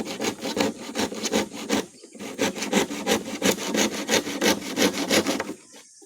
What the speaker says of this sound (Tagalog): Matalim naman tong ating lagari. At siguro mabilis tayo makapagputol nito.